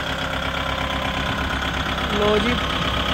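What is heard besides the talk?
Kubota MU5502 4wd tractor engine while turning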